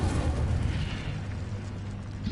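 A Hogwarts Legacy Incendio fire spell roars as a steady, loud whooshing rumble of flame that holds throughout without a break.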